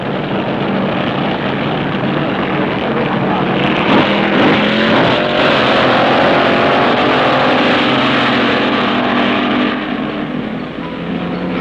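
Drag racing cars at Fontana, including Ed Pink's Old Bastard, roaring loudly down the strip in a sustained, rising engine howl, with an announcer's voice mixed beneath the noise.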